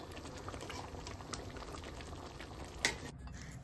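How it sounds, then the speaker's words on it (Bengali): Moong dal cooked with a fish head simmers in a pot on a gas flame, giving a steady close bubbling patter with one sharper pop near the end, and no talk over it. "এবার ডালটা একটু ফুটে গেলে গ্যাসের ফ্লেম বন্ধ করে ডালটা কিছুক্ষণ চাপা দিয়ে রেখে দেবো"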